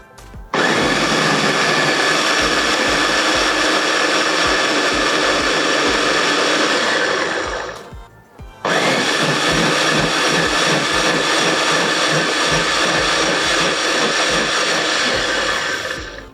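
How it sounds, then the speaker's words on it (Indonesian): An electric blender whirs through a pineapple pudding mixture with water, a loud, steady motor roar that cuts out briefly around the middle and then restarts and runs on, with no voices. "Kita blender."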